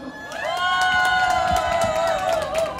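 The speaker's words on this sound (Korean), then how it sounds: "다시 한번 뜨거운 박수 주십시오." Applause and cheering from a crowd at an outdoor political rally, loud and steady throughout, with shouts and whistling voices rising over the din.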